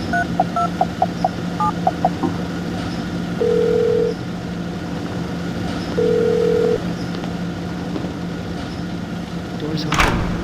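A phone number keyed in during Silent Hill: Shattered Memories: a series of short dialing beeps, then two longer steady tones, over a low background hum with a faint click near the end.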